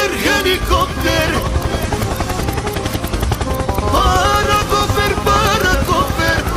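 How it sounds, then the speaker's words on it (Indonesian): Helicopter with a rapid, steady rotor chop that runs throughout, loud and close, mixed with melodic music. "Helikopter."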